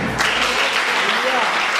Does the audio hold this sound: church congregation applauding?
yes